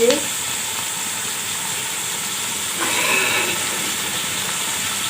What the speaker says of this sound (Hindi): थोड़ा सा गाजरों को तेल में 1-2 मिनट भूनेंगे